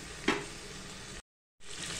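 Tomatoes sautéing in a pan for veg biryani give a steady close sizzle with one brief stirring scrape near the start, broken by a short silent gap.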